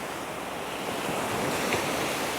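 Surf from 0.7 to 0.8 metre waves breaks on an Australian beach in a light offshore west wind, a loud, continuous roaring wash with steady wind buffeting the microphone.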